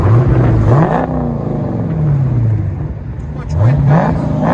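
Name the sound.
2021 Dodge Challenger Scat Pack 6.4L HEMI V8 dual exhaust revving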